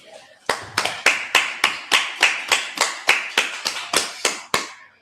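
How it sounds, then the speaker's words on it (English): Hands clap in a steady, even rhythm at a Feast of Purim closing gathering, about fourteen sharp, loud claps spaced roughly three per second. "let's clap it up"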